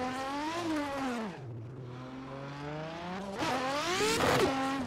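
An aggressive R33 pro drift car in a racing video game revs hard, climbing through gears with a rising engine whine, a brief drop at a shift, then a loud roaring pull, with no voices.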